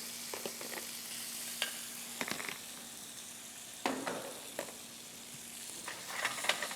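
Chorizo and rice frying together in a pan: a soft, continuous sizzle broken by intermittent scrapes and clacks of stirring, fairly quiet and close.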